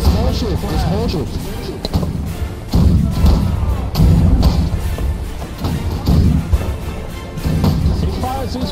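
Ship cannons in the naval battles of the video game Holdfast: Nations At War fire as repeated heavy booms and thuds in several bursts across the stretch. Voices talk over the barrages and game noise.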